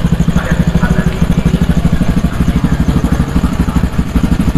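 Honda Vario 110 motor scooter engine idling close by, a loud, steady, rapid low putter with an even pulsing rhythm throughout.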